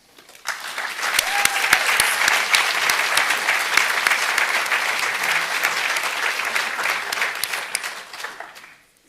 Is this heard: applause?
yes